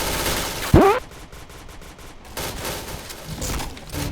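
HK416 assault rifle firing in a video game, loud close automatic bursts with sharp repeated cracks, a brief pause, then further shots trailing off.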